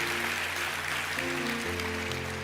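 Church congregation applauding at a morning service, a broad steady wash of clapping with organ or keyboard tones sustained underneath throughout.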